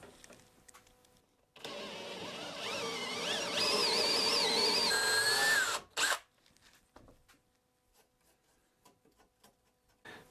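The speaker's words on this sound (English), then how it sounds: "I'm going to drill out around the screw so I can pull that screw out" A power drill runs a plug cutter around a screw in the wood of an antique John C. Mundell rocking chair with a broken rocker: a loud, whining bore rising in pitch for about four seconds, stops abruptly, then a short second burst and quiet handling noises.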